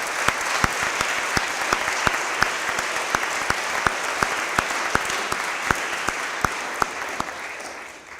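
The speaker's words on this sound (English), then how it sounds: "Let's give them another round of applause." An audience at a school honors day applauds faculty and staff, a sustained, full crowd clapping with a few sharp claps popping out, holding steady before tapering off at the very end.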